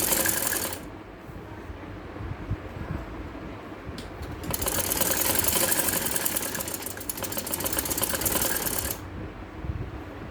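A sewing machine stitches lace and a ribbon trim onto a kameez suit, whirring in a short burst at the start, then running steadily through a longer loud stretch before stopping near the end.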